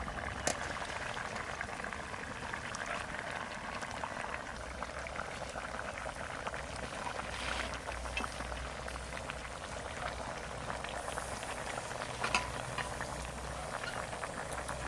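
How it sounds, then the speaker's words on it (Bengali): Katla fish curry with spinach boiling in a wok, a soft continuous bubbling simmer with small pops and clicks, fairly quiet and steady throughout. "ঝোলটা খুব সুন্দর জাল হয়ে গেছে"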